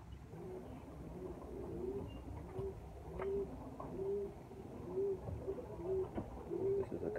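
A dark velvet cock pigeon repeats soft, low cooing calls close by in a loft, with a steady rhythm of short coos over quiet background rustling.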